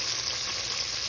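Steady, close sizzling and crackling of jackfruit pieces frying in hot oil, a continuous bright hiss with no talking.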